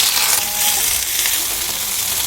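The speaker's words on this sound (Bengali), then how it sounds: "ওই তেলের মধ্যে ফোড়নে 5 ফোড়ন দিয়ে দেবো। কাঁচা লঙ্কা আর পেঁয়াজ কুচিয়ে রাখা দিয়ে দেবো।" Chopped onion and green chili frying in oil with a five-spice tempering, a loud, dense sizzle with faint stirring, continuous and close throughout the short moment, no voices.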